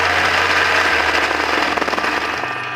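A Ralson 130 sewing machine with a motor runs steadily for embroidery, a fast, continuous mechanical chatter with a dense rapid needle rhythm, loud and close throughout.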